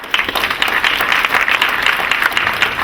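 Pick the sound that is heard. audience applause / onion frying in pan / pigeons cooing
audience applause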